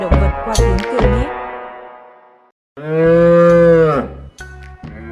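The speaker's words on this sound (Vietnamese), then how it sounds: "Con trâu" A water buffalo lets out a deep, drawn-out low, loud and close, after a few shorter guttural calls that fade into a brief pause, with a soft rhythmic backing beat.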